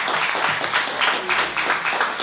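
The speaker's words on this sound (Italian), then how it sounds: "Un applauso Antonio Solinas." Brief burst of audience applause at a Sardinian cultural festival in Ghilarza, dense clapping filling the whole moment at a moderate, steady level.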